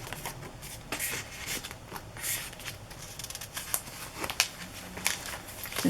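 Quick papery flutters and crackles as sheets are turned and shuffled, close by and fairly soft, with no talking.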